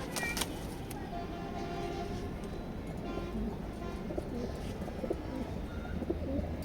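Light-coloured racing pigeons coo steadily in a loft, a continuous close murmur of calls with occasional wing or foot noises and no talking.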